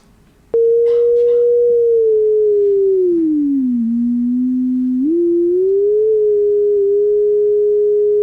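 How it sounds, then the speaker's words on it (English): A pure sine tone sonifies a stock market line chart: it starts abruptly, holds, glides slowly lower, jumps back up and wavers gently higher before settling, loud and alone against quiet background. "as the bar chart, a stock market chart, rose higher, the tone went higher. As it dropped, the tone went down"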